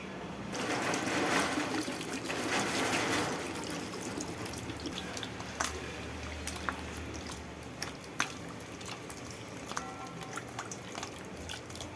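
Water splashes and trickles as mutton trotters are rinsed by hand, with scattered drips and squelching sounds close by.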